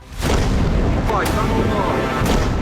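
A heavy explosion from a Russian drone strike on a Ukrainian army supply warehouse in the Kharkiv region, a loud sustained boom that rumbles on for about two seconds, with a couple of sharper cracks inside it.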